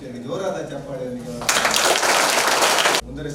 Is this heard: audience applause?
yes